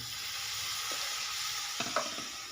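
Garlic and tomatoes sauté in a pan for a trotter paya, a soft continuous sizzle with a few faint stirring knocks near the end.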